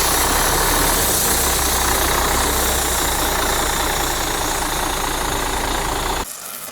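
A Volvo FH12 truck's diesel engine idles in a garage with a steady, loud low rumble and a faint knock, running evenly for about six seconds before cutting out abruptly near the end.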